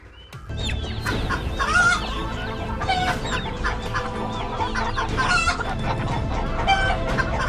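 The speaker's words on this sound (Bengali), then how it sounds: "মুরগিগুলো এরকম করছে কেন?" Chickens cluck and a rooster crows in a dense, continuous barnyard chorus, the birds loud and close for several seconds with calls overlapping throughout and no voices over them.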